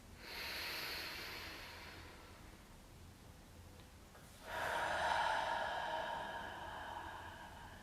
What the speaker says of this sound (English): One deep breath in and out.